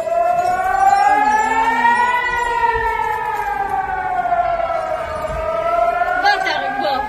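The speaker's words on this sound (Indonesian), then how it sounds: "Sirine di seluruh Israel Utara bahkan terus meraung-raung saat serangan 100 roket lebih Hizbullah berlangsung." Civil defense air raid sirens wail across Northern Israel during a Hezbollah rocket attack, a loud slowly rising and falling tone sustained throughout, with faint voices beneath.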